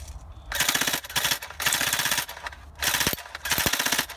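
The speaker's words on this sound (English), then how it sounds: "And then for full auto, you just flick it across." An H&K MP5A5 airsoft electric gun fires on full auto in four loud, rapid bursts of mechanical rattling, each lasting about a second with short pauses between them.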